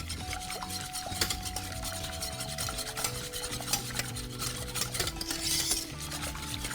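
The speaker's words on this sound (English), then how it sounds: "You want it to come up to a boil, but you need to always constantly whisk, never stop." Lemon curd being whisked constantly in a pot as it comes up to a boil, a busy continuous rhythmic scraping and rattling of the whisk against the metal, fairly faint and with no voices.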